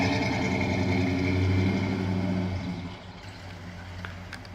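A 1965 Pontiac GTO Convertible idles with a steady, deep engine rumble, loud and near, easing slightly softer toward the end, with no voices.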